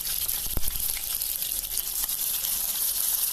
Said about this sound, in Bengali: তো তেলটা গরম হওয়ার পরে আমি এখানে একটু ভেজে রেখেছিলাম আলুগুলো। আমি আলুগুলোকে ভালোভাবে ভেজে নেব।